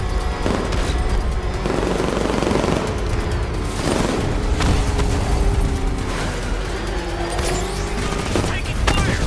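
Dense rapid gunfire rattles continuously in the Batman: Arkham Knight video game, loud and sustained bursts with booming impacts, mixed with game voices and effects.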